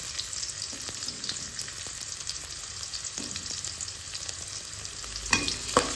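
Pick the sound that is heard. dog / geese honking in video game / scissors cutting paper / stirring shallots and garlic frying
stirring shallots and garlic frying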